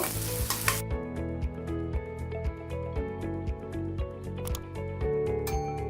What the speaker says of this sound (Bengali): এখন আমি এই পেঁয়াজটাকে হালকা ব্রাউন করে নিব।